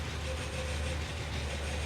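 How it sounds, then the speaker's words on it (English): A Rolls-Royce Phantom III's uncooperative generator gives off a steady mechanical whine over a low engine rumble, with a thin tonal line sustained at an even level throughout. "all those weird noises you're hearing are coming from an uncooperative generator"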